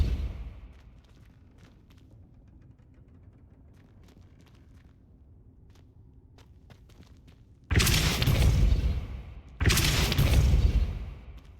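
In a Hogwarts video game, the Depulso spell goes off as two loud, broad whooshing blasts near the end, after a quiet stretch of faint ambient ticks and soft footsteps.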